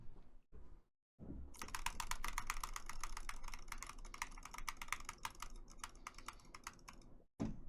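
Fast typing on a computer keyboard during a keyboard speed test, a dense, rapid clatter of keystrokes that keeps up for several seconds with a few short pauses and no talk.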